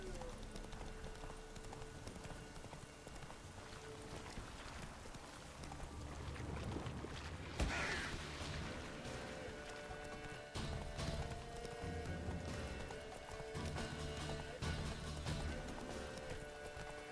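Roach, a horse in The Witcher 3, gallops in a steady clip-clop of hooves over a busy ambient game soundscape, at moderate level, with a brief louder burst midway.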